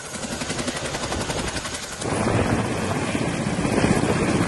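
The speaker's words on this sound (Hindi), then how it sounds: "इन दिनों वायुसेना का ये हेलीकॉप्टर चिनूक और MI-17 कुछ इसी तरह से केदार घाटी में मददगार बने हुए हैं।" Air Force Chinook or Mi-17 helicopter flying in the Kedar valley, a loud rapid rotor chop pulsing steadily that swells into a denser, heavier roar as the aircraft closes in.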